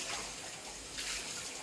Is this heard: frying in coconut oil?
no